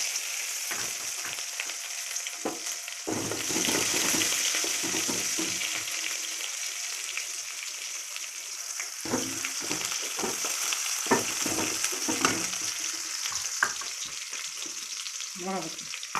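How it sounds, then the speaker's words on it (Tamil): Mustard seeds, chana dal, urad dal, onion and curry leaves fry in hot oil with a steady close sizzle, broken by stirring scrapes and a few sharp crackles and pops of the seeds, with no talk. "எண்ணெய் வச்சு கடுகு போட்டு கடலைப்பருப்பு போட்டு உளுந்தம்பருப்பு வெங்காயம் கருவேப்பிலை"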